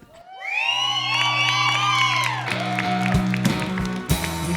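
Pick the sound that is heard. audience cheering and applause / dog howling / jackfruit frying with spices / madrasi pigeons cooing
audience cheering and applause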